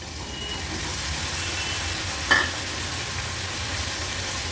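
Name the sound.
cauliflower added to hot pan, sizzling and stirred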